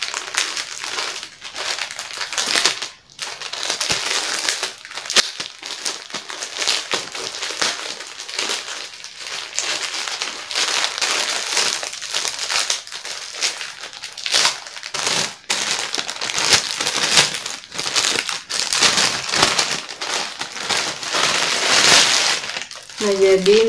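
Plastic parcel packaging crinkles and crumples close up as it is unboxed, making continuous, uneven rustling with brief pauses.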